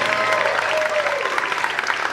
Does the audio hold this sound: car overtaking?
no